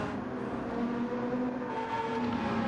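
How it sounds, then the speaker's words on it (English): A Mazda race car with a rotary Wankel engine, its high-pitched scream held steady and loud across a short stretch, with a dense mechanical drone and no talk. "Sound of the Wankel engine in the Mazda"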